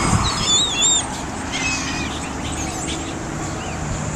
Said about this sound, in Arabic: كل أنواع الطيور، الحبش من وراء والبط من وراء السياج.